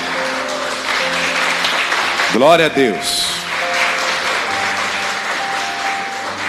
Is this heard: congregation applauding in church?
yes